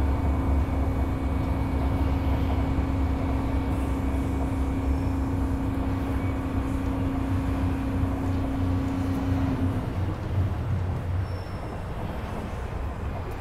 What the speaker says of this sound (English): I think the train is crossing.